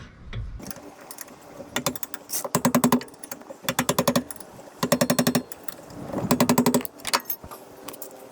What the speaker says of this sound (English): Tightening up the mount.